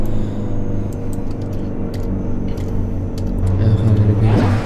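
A deep, rumbling racing car engine in the video game Assetto Corsa idles steadily nearby, its low growl swelling slightly toward the end, with no voices.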